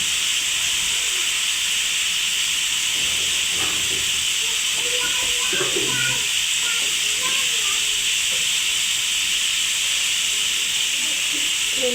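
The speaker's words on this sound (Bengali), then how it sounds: "এখন আমি এটা ভালো মতো কষিয়ে নিব যতক্ষণ পর্যন্ত মশলার তেলটা কষে মশলার তেলটা উঠে না আসবে।" Spice paste fries in oil for a chickpea curry, giving a steady, close sizzling hiss with occasional soft stirring sounds and a faint voice.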